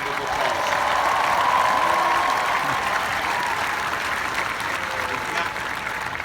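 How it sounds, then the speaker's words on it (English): A large commencement audience applauds parents and families, a steady, full wash of clapping from a big crowd that holds strong and even throughout with no break. "Let's give the parents and the families a big hand of applause."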